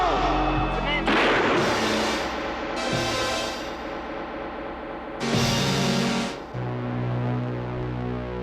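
Cartoon gunshots ring out in a gang-war street scene, a few sharp loud cracks with echoing tails amid tonal music and other effects.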